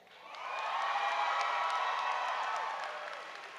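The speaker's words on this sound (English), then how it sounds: "he earns a little extra applause" Applause from a large audience at a high school commencement ceremony, a steady wash of many hands clapping that swells in, holds, and tapers slightly, heard somewhat distant.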